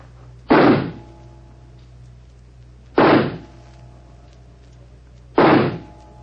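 Three pistol shots fired at a target in a shooting match, evenly spaced about two and a half seconds apart, each a sharp loud bang with a short decaying tail over a low steady hum.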